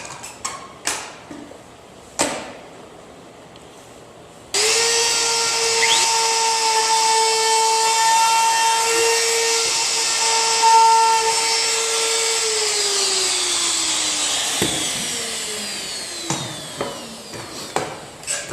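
A portable router spins up and cuts along a wooden board edge, a loud, sustained high whine with a slight pitch drop as it winds down, framed by clunks and handling knocks.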